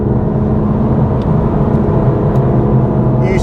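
A car engine holds a steady, loud droning rumble under light throttle while cornering on track, with the driver using left-foot braking, continuous and close throughout.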